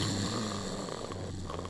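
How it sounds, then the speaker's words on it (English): A character in a Minecraft game snores in bed, a soft steady rasping drone held throughout at moderate level with no talk. "How is he already snoring?"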